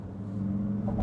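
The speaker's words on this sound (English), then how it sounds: "that's just kind of a sound effect that kind of makes it sound like it's got an engine" Artificial engine rumble piped in during sport-mode acceleration in a Xiaomi SU7 electric car, a low, steady droning hum inside the cabin that builds slightly toward the end.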